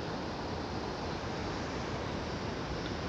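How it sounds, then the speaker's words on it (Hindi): A river rushes under strong pressure near Khasada waterfall in Gajapati District, Odisha, as a dense, continuous roar of water that stays steady and loud throughout with no voices. "आप देख रहे हो ये नदी की भी पानी कितना प्रेशर ज़्यादा है।"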